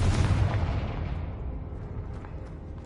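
A Confringo blasting spell in a Harry Potter video game goes off as one loud booming explosion, its rumble decaying slowly over a few seconds.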